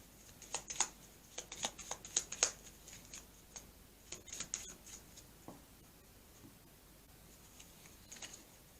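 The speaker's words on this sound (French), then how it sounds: "Je vais couper mon jeu" A deck of tarot cards being cut and shuffled: faint, quick papery flicks and taps in irregular bursts, quiet and close, with no talking.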